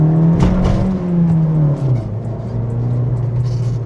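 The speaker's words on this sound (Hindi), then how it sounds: "एक बार यहाँ पर गाड़ी को लॉन्च करते हैं।" A Maruti Suzuki XL6 petrol car launches hard, its engine droning steadily and rising in pitch before dropping as it shifts, loud and continuous from inside the cabin.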